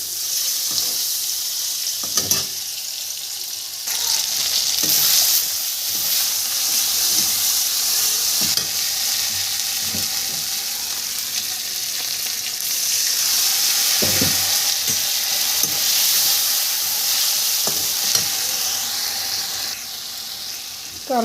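Paneer frying with tomato and asafoetida in a home kitchen gives a continuous loud sizzle and hiss, punctuated by irregular scraping stirs and clinks of a spatula against the pan.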